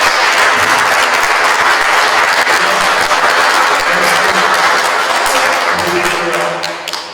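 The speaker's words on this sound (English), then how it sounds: "Let's give them one big round of applause." At a city council candidate forum, a crowd breaks into a loud, full round of applause with dense overlapping claps, tapering off near the end.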